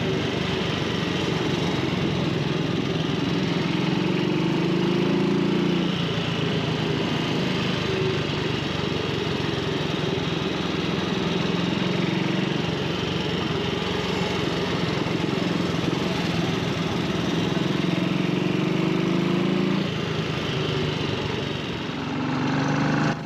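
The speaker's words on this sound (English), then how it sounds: "Deb's favourite, Triumph's 3SW 350 side valver. It's an absolute cracker on this little circuit." Triumph 3SW 350 side-valve motorcycle running on a small circuit at a classic motorcycle museum event, a steady, loud engine drone with gentle rises and falls in pitch as it rides past, with no talk.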